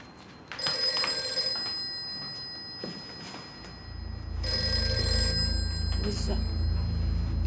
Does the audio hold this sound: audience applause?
no